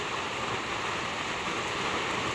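Steady rain falls outside a house onto muddy, soaked ground, a dense, even hiss with no pauses and no voices.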